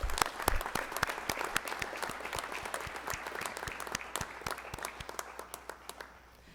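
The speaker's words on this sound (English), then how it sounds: "And now a round of applause for our honors program graduates." An audience at an honors day convocation applauds the honors program graduates, a dense burst of many hands clapping that slowly thins and fades out.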